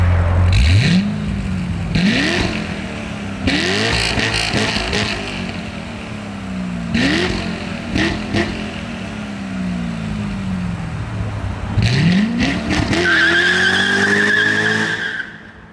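Chevrolet Corvette C6 Z06 V8 revving hard through repeated rising throttle blasts with gear changes, tires squealing in a rolling burnout at the end, loud and close with no talking.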